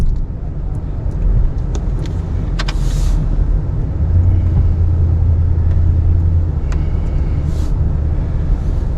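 A Ram 1500 Classic pickup pushing light snow with a Fisher HT plow gives a steady low engine rumble throughout, with a faint scrape and a few light clanks, close and fairly loud.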